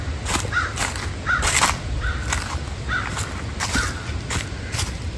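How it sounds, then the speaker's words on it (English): Several crows caw repeatedly in an outdoor creekside woodland along Conneaut Creek, with harsh calls spaced about a second apart over a steady background rumble. "tons of crows"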